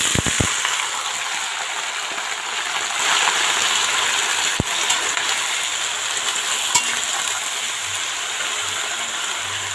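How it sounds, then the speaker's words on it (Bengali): Vegetables tipped into hot oil tempered with fennel seeds sizzle steadily at close range, a continuous broadband frying hiss with a few sharp clinks near the start and a brief knock midway, no talk over it. "তো এখন আমি সবজিগুলো দিয়ে দেব, নিরামিষের জন্য সবজিগুলো দিয়ে দেব"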